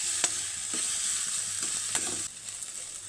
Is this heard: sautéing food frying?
yes